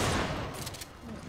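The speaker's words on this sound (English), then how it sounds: "Oh, this guy is shooting at me." Enemy gunfire in the video game Resident Evil 5, a dense burst of rapid shots right at the start that thins into scattered game noise within about a second.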